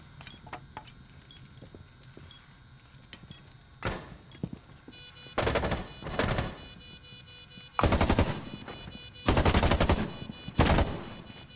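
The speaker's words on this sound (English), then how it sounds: "Trying to shoot them through the wall." Rainbow Six Siege gunfire: a few single shots early, then several loud, dense automatic bursts of rapid fire, each lasting about a second, with quieter game ambience between them.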